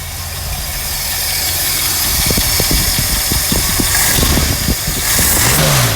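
A 1969 Mercury Monterey with a 390 V8 idles steadily and loudly nearby, a deep rumbling drone with uneven pulses and rattles and a slight rise in revs near the end.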